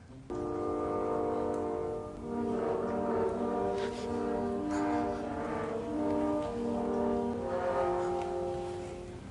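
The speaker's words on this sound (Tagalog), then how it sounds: "ang French horn. Ito ang tunog." A sustained, deep brass tone holds steadily for several seconds, resonant and moderately loud, like a French horn sounding long notes.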